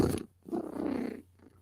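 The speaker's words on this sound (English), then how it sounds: "I'm a happy girl when I'm purring." Cat purring close by in short rumbling bursts, a soft low rolling vibration with a brief break in the middle, quiet and alone without talking.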